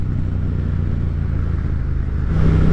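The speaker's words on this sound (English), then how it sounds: "So I love the sound. I'm running an Akrapovic exhaust." A Yamaha MT-07 motorcycle with an Akrapovic exhaust rumbles steadily at low revs nearby, then builds slightly louder toward the end, with no voices.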